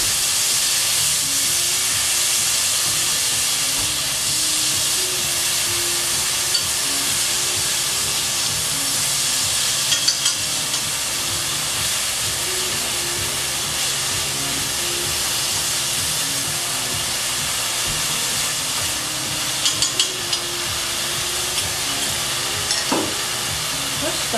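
Soaked and squeezed hijiki seaweed sizzles and hisses steadily in a hot pan while being stir-fried, a dense continuous frying sound with occasional scraping stirs throughout.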